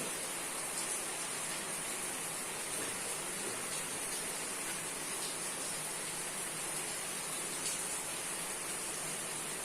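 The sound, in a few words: heavy rain falling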